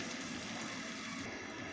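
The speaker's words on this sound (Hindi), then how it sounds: "अब मैं इसमें शामिल करूंगी 4 से 5 कप के करीब पानी।" Four to five cups of water poured into a pot of aloo gosht curry (potato and mutton), a steady, close rushing pour with a hissing wash that runs unbroken from start to finish, with no voices.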